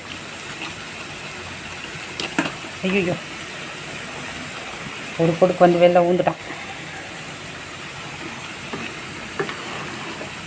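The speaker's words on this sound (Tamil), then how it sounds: "பாருங்கள், நல்லா கொதிக்குது." Bubbling and sizzling of crab gravy boiling in a pan on the heat, with a burst of stirring noise midway and a voice speaking briefly in between.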